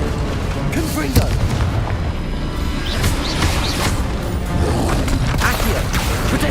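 A Confringo blasting spell from Hogwarts Legacy erupts in heavy booming explosions amid a continuous loud, chaotic battle din, with crashing impacts layered throughout and a voice speaking over the noise.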